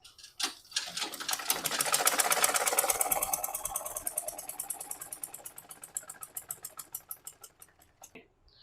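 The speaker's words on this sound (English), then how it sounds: "So you're going to sew all the way to the shoulder." A sewing machine stitches fabric up to a shoulder seam, starting with a few slow strokes, speeding into a fast steady run, then slowing to distinct individual ticks before stopping, close and clear.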